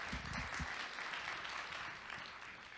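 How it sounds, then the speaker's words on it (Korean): Audience applause at a startup alliance event, a steady wash of clapping from a sizable crowd that holds throughout and eases slightly toward the end. "같은 박수로 일단 시작할게요."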